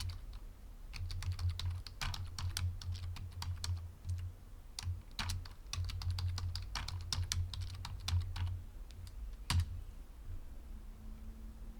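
Computer keyboard keys typed in bursts of quick clicks, then a single louder tap, close and clear over a low steady hum.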